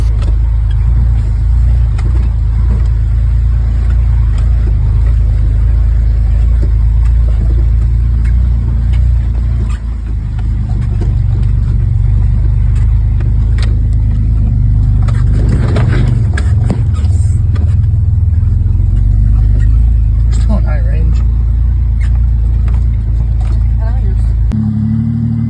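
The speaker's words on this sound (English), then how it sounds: "the Ranger's just bebopping through there" A 1991 Ford Ranger pickup rolls off-road over an old, rough trail, its engine running steadily and loud throughout with a brief dip and a few clunks and rattles from the truck's body; someone talks over the drive.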